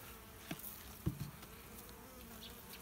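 Honey bees buzzing faintly around an open hive during an inspection in the Moscow region, a low steady hum with a few brief closer passes and no talk.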